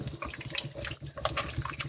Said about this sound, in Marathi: आता मी याच्यात पाणी टाकणार आहे अजून जे आपण गरम पाणी केलं अगोदर तेच टाकायचं आहे